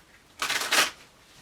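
A quick riffle shuffle of a tarot deck, two close overlapping bursts of papery card flutter lasting about half a second, alone in a quiet room.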